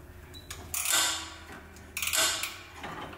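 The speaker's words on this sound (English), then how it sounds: "now I gotta tighten this top trans bolt here" Tightening the top transmission bolt on a Husqvarna mower: two bursts of rapid metallic clicking and creaking, close by, separated by quieter pauses, with no voices.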